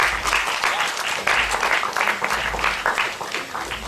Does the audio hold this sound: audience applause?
yes